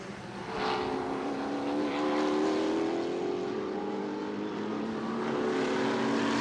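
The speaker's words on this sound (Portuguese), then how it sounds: "Aqui a McLaren do Kodair na perseguição para cima da Mercedes do Gui Salas" Stock cars racing on a circuit during an endurance event, including a McLaren chasing a Mercedes, with engines droning loudly and steadily throughout and a pitch that slowly shifts as the cars pass.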